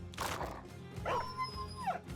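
A dog in the video game Battle Brothers gives a short whimpering yelp followed by a drawn-out whine over a busy game soundtrack, quiet and somewhat distant.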